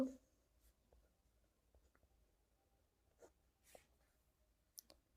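Pen or chalk writes numbers during a class 6 maths lesson, faint scattered scratches and taps over a quiet background, close but soft.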